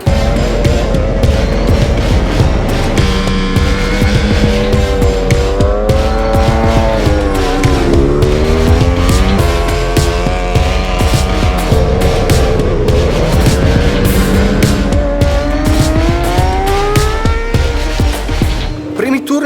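A V4S 1100 racing motorcycle roars around a track, its engine loud and close, revving up and down through gear changes in a continuous howl before cutting off at the end.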